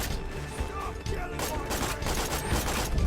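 An SMG in the video game Borderlands fires rapid bursts of shots, with sharp cracks crowding over a dense, busy game soundscape.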